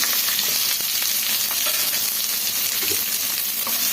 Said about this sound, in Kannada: ಒಣಮೆಣಸಿನ್ಕಾಯಿ ಸೇರಿಸ್ಕೊಳ್ಳೋಣ ಬೆಳ್ಳುಳ್ಳಿನೂ ಸೇರಿಸ್ಕೊಳ್ಳೋಣ ಈರುಳ್ಳಿನೂ ಸೇರಿಸ್ಕೊಂಡು ಚೆನ್ನಾಗಿ ಫ್ರೈ ಮಾಡ್ಕೊಳ್ಳೋಣ